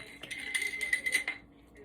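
Pumpkin the pet plays with a plastic teacup holder toy in a home kitchen, making a quick run of light clinking, rattling taps for just over a second before it fades to quiet.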